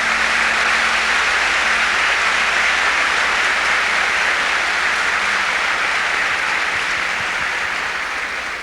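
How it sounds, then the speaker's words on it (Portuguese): A church congregation applauds, a loud, dense, sustained wash of clapping that holds steady throughout and eases slightly near the end. "Give the Lord a big clap for that."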